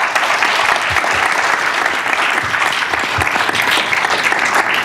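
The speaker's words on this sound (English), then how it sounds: "If we can give them all a round of applause." Steady, loud applause from an audience fills the whole stretch, dense clapping with no pauses and no voices standing out.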